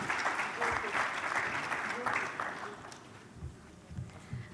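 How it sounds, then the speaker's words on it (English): A conference audience applauds speakers in a steady burst of clapping that thins out toward the end, while a voice speaks over it at moderate distance. "Can we have another round of applause for our speakers"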